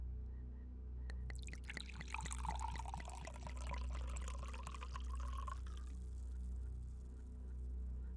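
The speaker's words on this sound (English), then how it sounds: "pour some wine for me." Wine poured from a bottle into a glass, a close, gurgling stream that rises in pitch as the glass fills and then stops abruptly, leaving a quiet low hum.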